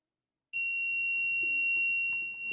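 A water level controller alarm sounds when the household water tank reaches full, a sudden steady high-pitched electronic tone that starts after a short silence and holds continuously, with faint background noise beneath.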